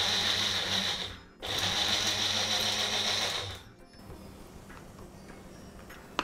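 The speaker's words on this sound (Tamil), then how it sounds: "இந்த மாதிரி கரக்கரன்னு அரைச்சி எடுத்துக்கோங்க போதும்." A kitchen mixer grinder coarsely grinds toor dal and black pepper, a loud steady whirring drone that halts briefly, restarts, then cuts off, leaving quieter background noise.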